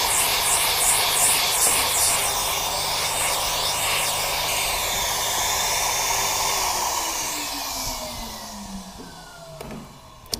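A vacuum cleaner roars steadily while cleaning an old Touraine-style bonnet during restoration, a loud continuous whine and hiss that winds down toward the end.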